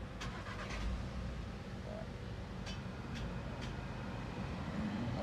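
A Volkswagen car engine cranks and catches, then settles into a low, quiet idle with a few faint clicks early on.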